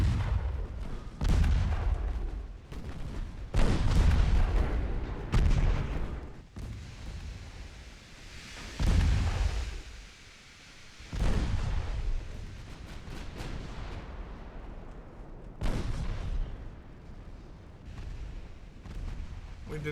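Heavy naval gunfire from warship batteries in Ultimate Admiral Dreadnoughts, a series of loud booming salvos with rumbling decays, repeating irregularly across the battle and dominating the mix.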